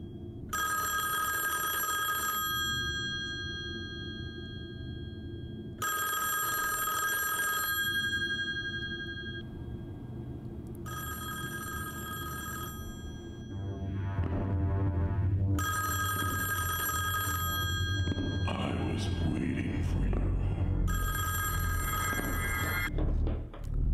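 An old-style telephone bell rings in a short horror film, sounding in about five loud, evenly spaced bursts separated by pauses, with a low rumbling drone swelling between the later rings.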